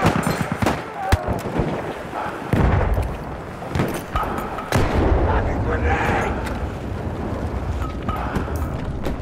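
Video game warfare erupts in dense gunfire and heavy explosive blasts, including a grenade going off, with booming impacts and rattling bursts over shouted voices throughout.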